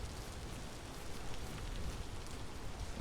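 Steady rain falls in the video game Vintage Story, a dense, even hiss with soft patter that holds at a constant level throughout.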